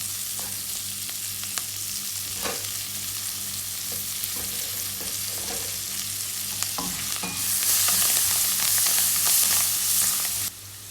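Masala powders with mint and coriander leaves sizzle in hot oil while a spoon stirs, a steady close frying hiss broken by scraping clicks, rising louder near the end, with no talk.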